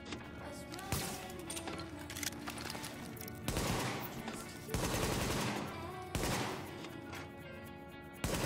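Gunfire at a shooting range in the video game The Division: bursts of rapid shots and sharp single cracks repeat across the stretch, loud against a busy game background.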